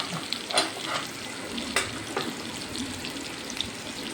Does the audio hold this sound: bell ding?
no